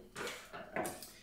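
A knife cuts an apple on a hard surface while a puff-pastry blueberry and apple tart is being prepared: a few soft, close cutting and clattering knocks in quick succession, faint and without voices.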